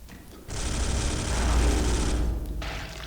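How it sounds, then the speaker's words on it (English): A Terminator in the Space Hulk video game opens fire, a loud rapid rattling burst of automatic shots lasting about two seconds, then a brief second burst. "My guy takes a shot at him"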